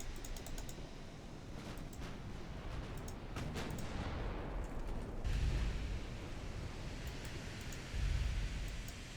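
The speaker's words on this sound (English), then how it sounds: "Try firing another armor-piercing shell, please." Naval artillery in the Ultimate Admiral Dreadnoughts game fires armor-piercing shells from battleships, with two dull low booms a few seconds apart under a steady bed of game noise and rapid keyboard clicking.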